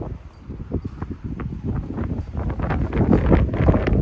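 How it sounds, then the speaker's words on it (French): Strong sea wind buffets the microphone at a seafront car event, a continuous low rumbling roar with gusts that grows louder toward the end, no voices heard. "Les amis Cadillac, excusez-moi vraiment pour le vent."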